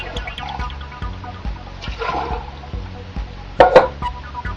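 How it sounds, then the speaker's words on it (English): Water and tomato sauce being poured back and forth between two cans, giving splashy, sloshing liquid pours with a few metallic clinks, close up, the loudest splash near the end. "just pour it back and forth between the 2 cans until you've worked all the tomato sauce off of the sides of the can"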